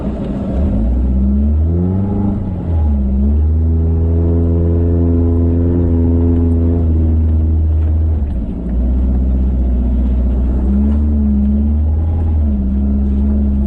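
A four-wheel-drive vehicle on an off-road poker run trail labours up a corner, its engine loud and close, droning and rising in pitch with revs before easing and building again.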